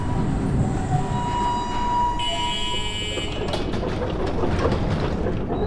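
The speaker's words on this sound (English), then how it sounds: "I don't like the fact the tram clips there and then it stops really far away from the bridge on this side." Tram running on rails in the video game Abiotic Factor, a continuous loud rumble with steady clatter, tonal whine and squeal, then rattling clacks as it moves along.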